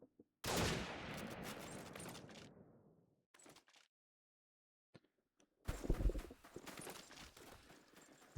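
Call of Duty 2 gunfire in a tournament match, a loud burst of shots fading into a decaying tail, then brief clicks and near silence before another dense volley of firing.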